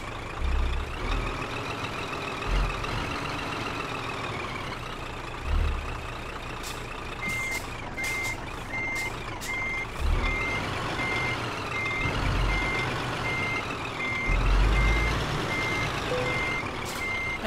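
In the Euro Truck Simulator 2 game, a truck parking a trailer sounds a steady series of evenly spaced reversing beeps over a low idling diesel engine, with occasional air hisses and bumps.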